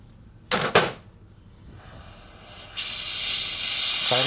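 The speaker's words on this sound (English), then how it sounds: "Turn on the fire." A gas torch for melting metal in a crucible, used to make a handmade wedding band, gives two sharp igniter clicks, then a soft hiss of gas before the flame catches into a loud, steady roaring rush.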